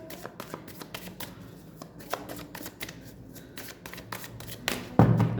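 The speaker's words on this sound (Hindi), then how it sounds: "मैं कार्ड शफल कर रही हूँ।" A deck of tarot cards is shuffled up close, with continuous riffling and flapping of the cards and a louder burst near the end as the deck is squared.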